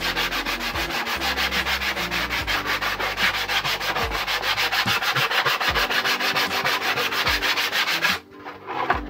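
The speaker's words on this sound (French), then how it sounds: "Donc je vais poncer une première fois" Coarse sandpaper worked by hand across a wooden worktop in steady, rapid back-and-forth rasping strokes, loud and close, before the rubbing stops abruptly near the end.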